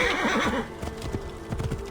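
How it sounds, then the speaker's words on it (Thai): A horse in Assassin's Creed Origins whinnies loudly at the start, its neigh fading into a quick run of clip-clopping hoofbeats drumming close by, with no talk over it. "ขโมยม้าเลยแล้วกัน"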